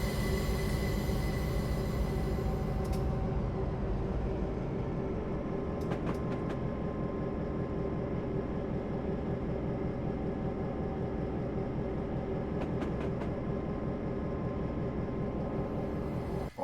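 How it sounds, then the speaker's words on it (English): Great Northern F7 diesel locomotive hauling the Empire Builder through Montana in Train Simulator 2021, a steady loud engine drone with rumbling wheels and brief high squeals, no talking. "the train definitely winds coming down through here, through this area"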